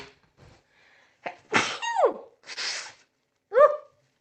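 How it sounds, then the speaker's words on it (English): A few sharp intakes of breath build up, then a loud, close sneeze bursts out, followed by a shorter second sneeze after a brief pause. "I'm going to probably sneeze."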